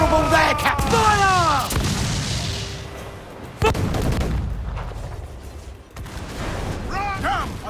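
Heavy ship cannons fire in a naval battle in Assassin's Creed IV Black Flag, several booming blasts with long rumbling tails, mixed with shouting voices and creaking, whistling effects.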